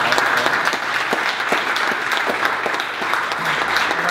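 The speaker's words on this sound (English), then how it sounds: "So let's give a big round of applause." An audience at a startup meetup claps in a dense, steady round of applause that stays loud and even throughout, with no voices rising above it.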